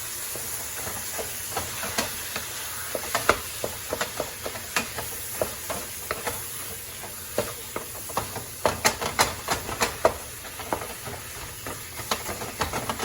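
Ground beef browning in a pan, a soft steady sizzle broken by scattered scraping and stirring taps, close and moderately loud, with no voices.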